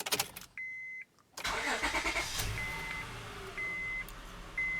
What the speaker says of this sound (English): now I'm going to start the engine